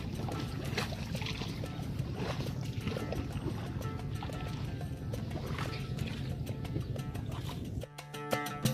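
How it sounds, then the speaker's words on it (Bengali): A small boat glides along a narrow canal toward a swamp forest in Sylhet, with steady low engine or water rumble and lapping throughout, ending in a sharp mechanical rattle. "সরু এই খালে ভাসতে ভাসতে নৌকা আগাতে থাকে জলাবনের দিকে"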